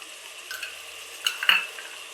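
Masala for Kathiyawadi makai pauva shaak sizzles and fries in a pan after garlic chutney is added, with a soft steady hiss and a few louder spluttering stirs and utensil scrapes.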